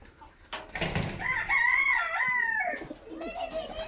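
Rooster crowing near a pigeon coop, one long, loud cock-a-doodle-doo rising and falling over about two seconds, preceded by a few clucks and soft flapping, with a shorter call trailing off at the end.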